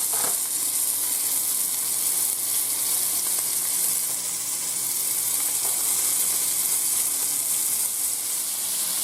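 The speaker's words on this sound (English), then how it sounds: "I always fry with olive oil." Rabbit pieces frying in olive oil, a steady dense sizzle and crackle of hot oil throughout, close and fairly loud, with no talk.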